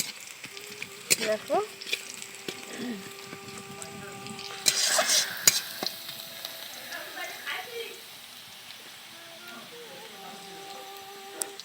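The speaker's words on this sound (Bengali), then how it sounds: "বন্ধুরা, লাল লাল করে ভাজা হচ্ছে পেঁয়াজটা" Onions frying in oil in a pan until reddish, a soft crackling sizzle with utensil clinks and a louder burst midway, while someone talks over it.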